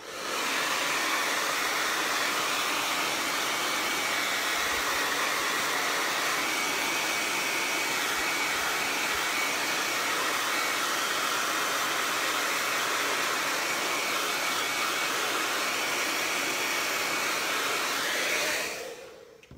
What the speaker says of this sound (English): I'm actually gonna hit it with the blow dryer really quick.